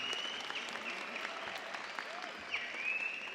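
Graduation audience applauding student speakers, the valedictorian and salutatorian, at a college commencement; steady, dense clapping from a large crowd throughout, with a few cheers and whistles rising near the end.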